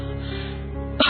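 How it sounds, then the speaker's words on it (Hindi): An elderly woman gives a short, sharp cough at the end of a brief stretch of quiet background tone, close and moderately loud. "ये खांसी तो जा ही नहीं रही है।"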